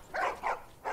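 Dogs in The Last of Us video game bark in three short, gruff bursts at close range, with brief gaps between them and no talk.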